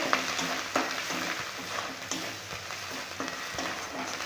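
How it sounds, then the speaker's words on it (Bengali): Kashmiri chilli powder, turmeric and coriander powder frying in oil while a spoon stirs them, giving a steady close sizzle with regular scraping strokes against the pan for the whole stretch. "ভালো করে একটু নেড়ে দেবো এবারে দিয়ে দিব কাশ্মীরি লঙ্কা গুঁড়ো হলুদের গুঁড়ো ধনে গুঁড়ো নাড়াতড়া করবো"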